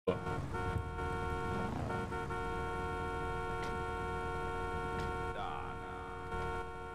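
Car horn held down in a video game, a long continuous blaring honk that drones steadily for several seconds with faint game noise underneath.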